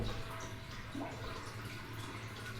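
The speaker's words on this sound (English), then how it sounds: "when I walked into this bathroom, I thought I was walking into a damn waterfall" Water runs and drips steadily in a restaurant bathroom, a continuous rushing wash near the listener with low hum beneath, no voices.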